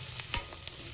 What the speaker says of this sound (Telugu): ఆనియన్స్ ఇంకొంచెం వేగాలి